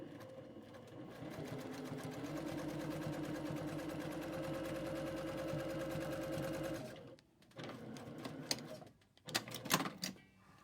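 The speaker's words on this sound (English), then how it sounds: "we've stitched right on those lines" A sewing machine runs steadily while stitching along marked lines on fabric, its motor whirring with a rapid needle patter for about seven seconds. It then stops, leaving a few brief handling noises and short bursts.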